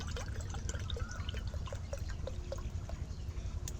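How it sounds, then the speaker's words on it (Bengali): Water is poured into soaked sabudana for papad, a close, continuous splashing and trickling pour with small gurgles running the full length. "এবার আমি আরও তিন কাপ জল দিয়ে দেবো"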